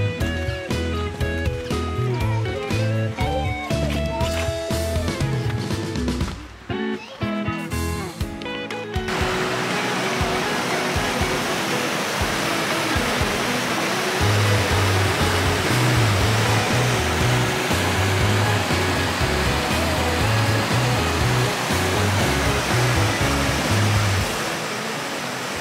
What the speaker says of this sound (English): 8-Foot Falls is just a path away, following a short trail along a stream of water.